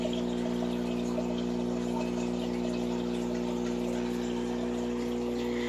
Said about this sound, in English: And it is being filtered by this here. It is a canister filter for a 100-gallon fish tank.